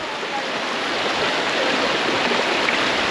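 Forceful river water at Hogenakkal rushes in a steady, loud, broadband roar, close by and unbroken for the whole stretch, with no clear voices over it.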